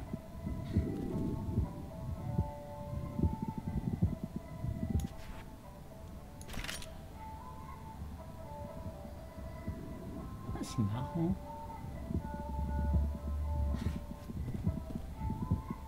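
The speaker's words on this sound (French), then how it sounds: "Il y a les battements de cœur qui se font entendre" Steady, rhythmic low thumps of a heartbeat pulse through a Resident Evil 6 game scene, mixed with other game noise while someone talks over it.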